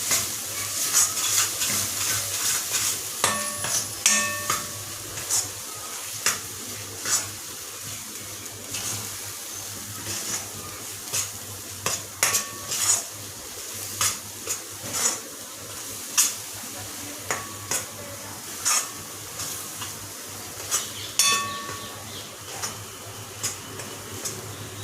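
A spoon stirs coriander powder and turmeric masala in a pan, giving scattered close scraping ticks and clinks over a faint, steady background sizzle.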